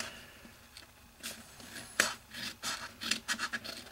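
Scissors snip and rasp through red cardstock in a run of quiet, close crisp cuts, growing more frequent toward the end.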